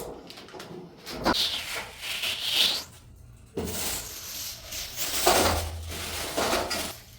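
Kitchen handling of a whole hilsa fish being cut and cleaned: scraping, knocking and wet rustling in irregular bursts, close and fairly loud, with a brief quiet pause midway.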